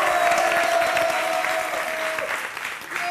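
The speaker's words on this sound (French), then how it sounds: "Je vous ai dit, applaudissez s'il vous plaît" A studio audience on a French-language TV entertainment show breaks into loud, continuous applause that keeps up steadily throughout, with a thin tonal whistle running underneath.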